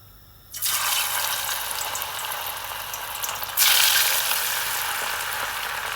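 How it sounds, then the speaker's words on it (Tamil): Steady crackling sizzle of anchovies deep frying in hot oil, starting abruptly and growing louder partway through, close by with no voices. "கொஞ்சம் நல்லா கொதிக்கபடியாக போட்டோன்னே டக்கன்னு பொரியுது"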